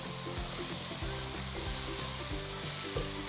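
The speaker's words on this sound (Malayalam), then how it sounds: "ടൊമാറ്റോയും ഒണിയനൊക്കെ നന്നായിട്ടൊന്ന് സോട്ട് ആയിട്ടുണ്ട്" Tomatoes and onions sauté in a pan for paneer butter masala, giving a steady, close sizzle and hiss throughout, with a rhythmic tonal pattern running underneath.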